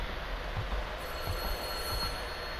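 A telephone rings in the horror game White Day, a steady electronic trill repeating at mid volume over a low rumbling ambience, with no one speaking.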